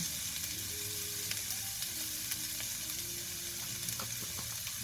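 Bitter gourd (ampalaya) with egg added fries in a pan, giving a steady, close hiss and sizzle with light crackles and occasional stirring scrapes, no talk over it.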